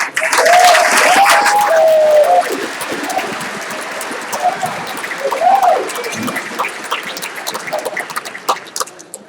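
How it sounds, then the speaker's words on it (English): A banquet audience applauds the hotel staff, a wash of many hands clapping that fades and thins toward the end, mixed with a voice and murmuring from the room. "Can everyone join me in a round of applause for the hotel staff?"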